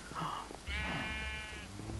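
A sheep in the Minecraft video game bleats once, a quavering nasal cry lasting about a second, faint over low background game noise.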